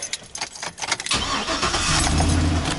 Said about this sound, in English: we're going to go inside the truck here now and we're going to start it up.